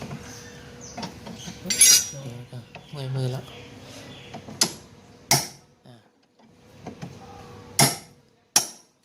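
A hammer strikes metal parts of a Toshiba washing machine under repair, landing several sharp, loud clanks spaced irregularly, with people talking between the blows.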